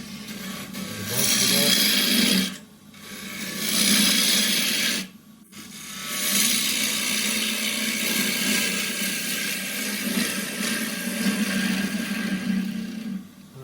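A woodturning gouge cuts wood on a lathe, giving a steady close rasping, hissing shear that breaks off twice for short pauses before carrying on continuously.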